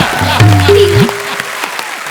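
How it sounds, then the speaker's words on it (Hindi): Studio audience applause on an Indian TV comedy show: a short musical sting plays first, then loose clapping rises and carries on fairly steadily to the end. "ठोको ताली। ठोको ताली।"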